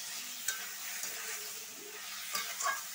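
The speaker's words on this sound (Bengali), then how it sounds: "একটু মাংসটা ভেজে নেবে এপিট এপিট করে।" Meat fries in ghee with a steady close sizzle, and a few stirring clacks and scrapes punctuate the hiss as the pieces are turned.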